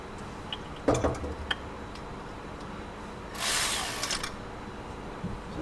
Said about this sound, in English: Sometimes you can break the two with this ratchet as long as it's not too tight.